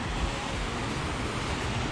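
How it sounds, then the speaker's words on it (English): Steady broadband rush of river rapids below a lookout near Idaho Springs, Colorado, continuous and fairly loud with some wind buffeting the microphone, no speech. "Those are the rapids down there."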